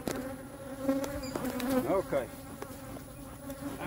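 A swarm of bees buzzes around a hive, the drone rising and falling as insects fly close past, with sharp pitch bends as individual bees zip by; steady and moderately loud, without speech.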